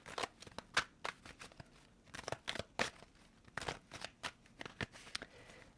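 Tarot cards being shuffled by hand in a series of crisp, papery riffles and snaps at an irregular rhythm, close up and fairly quiet, with no talking.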